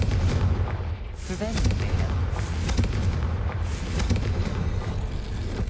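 Fire spell blast from a wand in Hogwarts Legacy, a series of loud booming bursts with crackling rumble filling the stretch, over continuous game noise.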